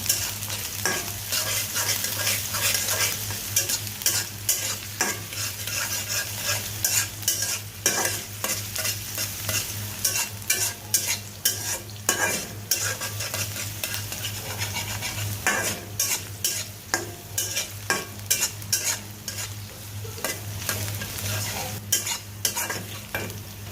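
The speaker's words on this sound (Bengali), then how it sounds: "পেঁয়াজ আর কাঁচামরিচ একটু হালকা ভাজা ভাজা করলে তার মধ্যে আমি পুঁই শাকটি দিয়ে দিচ্ছি।" Malabar spinach stir-fried with onion and green chilli in a pan, with continuous sizzling and frequent scraping stirs of a utensil throughout, steady and close with no talking.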